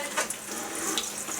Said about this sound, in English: turn our faucet on here